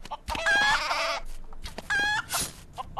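Chickens in the video game Craft the World squawk and cluck in two loud, close bursts, each a rising, strained call, with faint game sounds between them.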